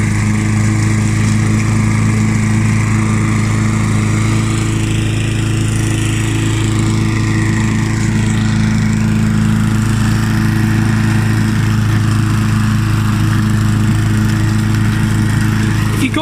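A Mountfield M4 petrol lawn mower with a 1993 engine runs steadily and loudly close by, a constant droning hum with no pauses.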